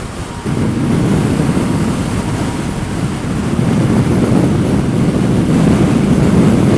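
Steady, loud wind roars and buffets against the rider's microphone on a 2013 Hayabusa motorcycle at highway speed in gusty cold-front weather, a continuous broadband rush swelling slightly toward the end with no talking.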